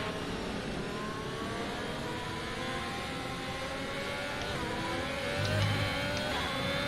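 Racing car engines at a simulated league race in Abu Dhabi, droning steadily at the safety car restart with layered revving tones from several cars, a constant fairly faint roar that rises slightly near the end.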